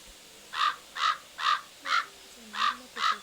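Six evenly spaced crow caws ring out one after another, each harsh and short, fairly close against a quiet background with no talking.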